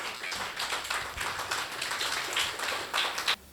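Church congregation clapping for Jesus, a sustained burst of fairly faint, dense hand claps lasting a few seconds before cutting off sharply.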